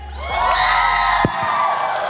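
A large arena crowd at the MLBB M6 esports world championship knockout stage in Malaysia cheers, shouts and whoops loudly and continuously, close and dense.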